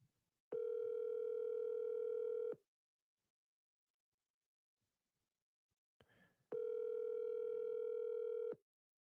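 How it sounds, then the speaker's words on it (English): A telephone gives a steady, loud, buzzy dial tone in two bursts of about two seconds each, with a few seconds of silence between them and no voices. "Let me see if I can make a quick phone call before we end this."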